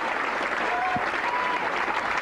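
Austrian crowd applauding at a bowling tournament in Vienna, a dense, steady wash of clapping filling the hall, with a commentator speaking over it.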